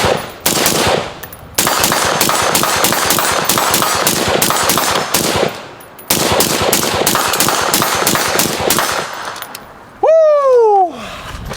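Loud, close automatic fire from a hot Mark 18 rifle emptying its last magazine in long rapid strings with brief gaps, ending in a ringing metallic clink.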